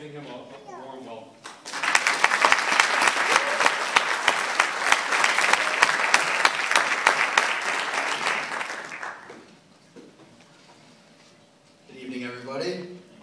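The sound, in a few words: applause welcoming a graduation speaker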